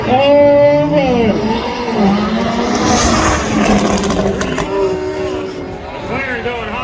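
A McLaren launches hard at a spectator drag race, its engine howling loud and close with rising and falling revs and a brief tire squeal, while a crowd murmurs underneath.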